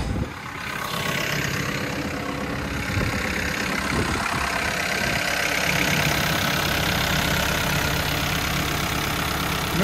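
A heavy engine runs steadily after a pump rework at a quarry, a continuous close rumbling idle with some clatter and no talking.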